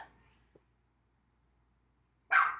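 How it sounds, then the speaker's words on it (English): A single loud, close dog bark near the end, preceded by a short faint vocal sound and near silence, in a home workout setting. "Oh my gosh, that dog. Surely he's not gonna bark the whole time."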